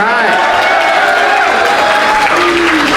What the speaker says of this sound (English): If they want to applaud, we're going to let them applaud there.